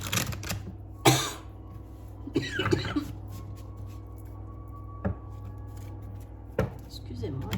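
Someone coughs from incense smoke indoors, several sharp, separate coughs spaced across the stretch, close and fairly loud, with a quiet voice between them.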